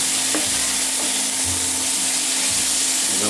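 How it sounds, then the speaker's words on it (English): Garlic sizzles and sputters steadily in a hot pan on the stove, frying under an occasional stir, close up and even in level with no one talking. "this just has to saute for about 3 minutes"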